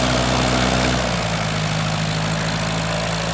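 A small propeller airplane's piston engine starts up before taxiing, settling from a rougher run into a steady, droning idle hum close by, with no talk.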